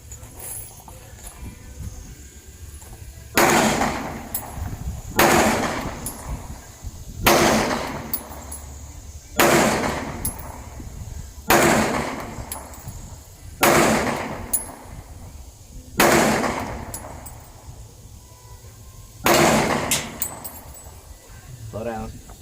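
Seven loud pistol shots from a Smith & Wesson M&P Shield Plus at an outdoor range, fired at a slow, steady pace about two seconds apart, each a sharp crack with a short ringing tail over quiet background.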